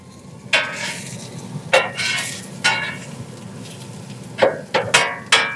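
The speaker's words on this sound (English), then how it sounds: "we're going in with these sweet onions. We're going to go ahead and we're just going to cook all these" Sweet onions frying on a griddle, a steady sizzle broken by several sharp scraping strokes of a spatula stirring and turning them.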